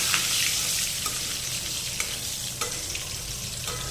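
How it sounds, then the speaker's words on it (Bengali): Black cumin seeds and green chilies sizzle steadily in hot oil, left over from frying hilsa, with a dense close crackle and occasional stirring clicks against the pan throughout. "ওই একই তেলের মধ্যে মামনি কালো জিরে এবং কাঁচা লঙ্কাগুলো ছেড়ে দিল"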